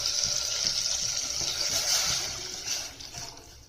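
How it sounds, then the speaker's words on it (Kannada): Water is poured into a pot of bele pudi rasam made with tomato and tamarind, a steady gushing splash close by that goes on for several seconds and then tapers off. "ಇವಾಗ ನೀರು ಹಾಕೋಣ"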